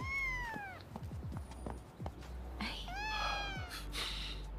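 A cat meows several times in a row, the drawn-out calls rising and falling, close and clear over a steady low background rumble, with a few soft thumps in between.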